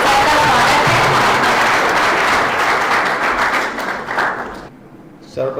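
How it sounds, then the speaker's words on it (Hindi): An audience at an international conference at Samadhan College gives loud, close, enthusiastic applause that holds strong for several seconds, then tapers and cuts off abruptly near the end. "तो आप सबकी खूब जोरदार तालियों के साथ सबका स्वागत है।"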